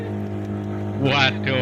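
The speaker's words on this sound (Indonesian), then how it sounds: "kapalnya menggerang-gerang guys. Berapa cc ini ya guys, tapi lumayan kencang ini guys" The motor of a traditional tourist boat on the Gajah Mungkur reservoir drones steadily and loudly close by, with a rush of wind and water rising over it, and someone talks throughout.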